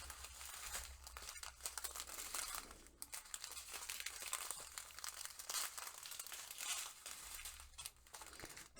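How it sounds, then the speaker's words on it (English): Plastic packaging around diamond art kits crinkles continuously in a haul unboxing: close, dense crackling and rustling that swells and eases throughout, with no talking. "So much crinkling."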